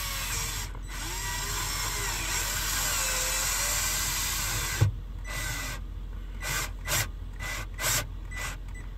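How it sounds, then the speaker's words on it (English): A power drill drives a large screw into a car dashboard, whirring steadily for several seconds, then cutting off abruptly before a few short bursts of drilling, close and alone. "I'm just gonna sink a huge screw into my dash"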